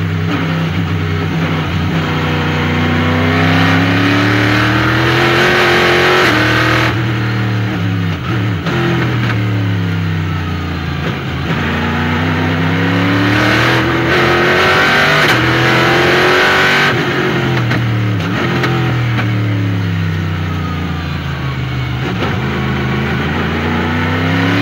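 A Porsche GT3 Cup race car in a French GT race at the Ledenon circuit, heard on board during the opening lap, its engine roaring loudly and continuously as it repeatedly revs up through the gears and drops back under braking.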